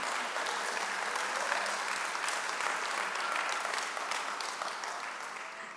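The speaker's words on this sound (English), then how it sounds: "Let's again give her a round of applause." An audience at the City Readers 2014 closing ceremony gives a young honoree another round of applause, a full, continuous wash of clapping that stays strong and steady throughout, tapering a little near the close.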